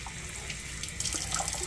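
Tap water runs steadily into a sink, wetting a reusable Swedish paper towel, with a soft continuous splash that grows slightly louder partway through, close and alone.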